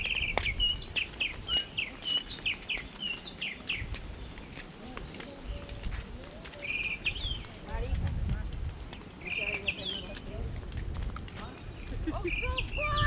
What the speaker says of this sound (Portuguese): Barulho de passarinho.